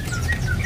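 A male mangrove bush lark (teledekan bakau) sings in a short burst of thin, high whistled notes at moderate distance, set over a steady low background hum.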